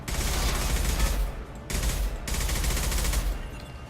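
Sustained gunfire in Mass Effect 2 aimed at a gunship, a dense, continuous roar of shots with a deep rumble, briefly cut off twice before resuming.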